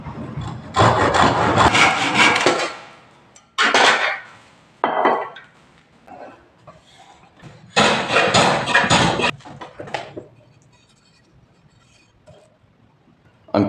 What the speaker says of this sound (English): I'm going to trim off a little bit somewhere around this